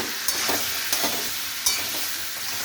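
Pointed gourd, potato and prawns stirred in a frying pan, a steady close sizzle broken by three sharp scrapes of the spatula about once every half second, with no voices.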